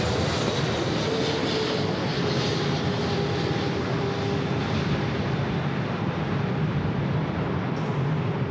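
A Japan Airlines Boeing Dreamliner airliner arriving from Osaka crosses runway 24 left at LAX, its engines giving a steady, broad roar that holds loud and continuous throughout with no talking.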